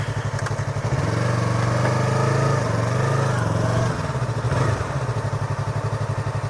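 A Yamaha R3 motorcycle engine buzzes close and loud while riding, rising in pitch under throttle for a few seconds and then settling back to a steady pulsing drone.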